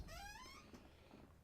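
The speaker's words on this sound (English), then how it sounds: "that's my chair being creaky" A creaky chair gives a short rising squeak lasting about half a second, close but faint, followed by a few soft creaks against quiet room noise.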